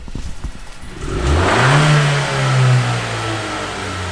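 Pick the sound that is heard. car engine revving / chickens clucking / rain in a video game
car engine revving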